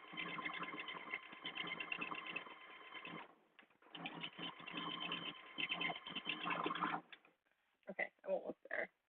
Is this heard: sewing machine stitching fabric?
yes